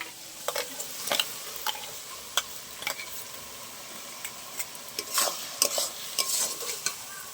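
Ground spice paste sizzles gently with onion and mutton in a pan while a utensil stirs, sharp intermittent metallic clicks and scrapes against the pan over a quiet frying hiss, close up with no voices.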